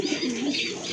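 Pigeons cooing at a market stall where domestic and foreign breeds, including crested birds, are sold. Close, continuous soft coos with throaty rising and falling warbles.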